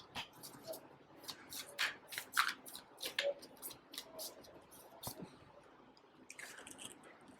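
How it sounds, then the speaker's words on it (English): A deck of tarot cards is shuffled by hand in a run of soft, papery riffles and light slaps, close up and fairly quiet, with no talking. "so we will keep shuffling."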